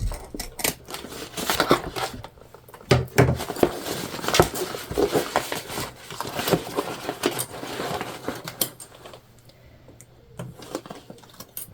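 Scissors snipping away excess fabric from a sewn pouch being made into a crossbody bag, a run of close, irregular crisp cuts and rustling that thins out toward the end.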